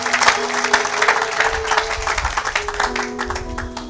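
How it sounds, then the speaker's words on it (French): A church congregation applauds in praise during a worship service, with sustained, dense clapping over a soft held musical tone throughout. "Acclamez pour la gloire de notre Dieu"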